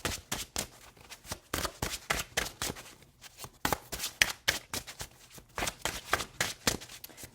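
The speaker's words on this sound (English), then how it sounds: "I'm going to pull 4 cards for my collective, 4 tarot cards" Tarot cards being shuffled by hand in a repeated series of crisp riffling bursts, close and fairly quiet, with brief pauses between shuffles.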